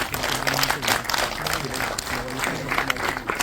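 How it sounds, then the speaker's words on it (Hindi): Audience applause welcoming a Bollywood actor on stage at the Jagran Film Festival 2025 in a mall, a crowd clapping steadily with murmuring voices and some talk mixed in. "हम इसका स्वागत करते हैं तालियों के साथ"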